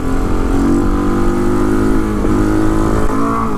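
A 2016 KTM 690 Enduro R single-cylinder engine revs hard and steady during a wheelie, loud and close with a sustained droning pitch that shifts slightly near the end.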